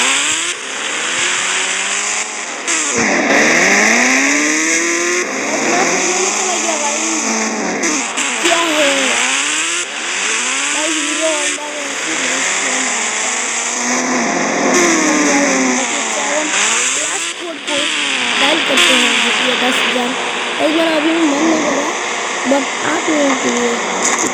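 A loud motorcycle engine in the video game Indian Bike Racing 3D revs up and down repeatedly in rising and falling sweeps, continuous and close throughout.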